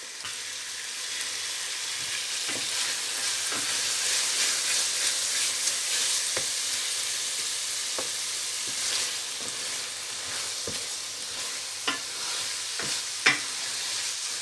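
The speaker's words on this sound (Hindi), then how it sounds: "अब हम भून लेंगे, पानी खुश्क हो रहा है, नीचे ना लगे।" Ridge gourd and potatoes fry in ghee with a constant crackling sizzle, while occasional spatula scrapes and sharp ticks against the pan punctuate the hiss over a long stretch.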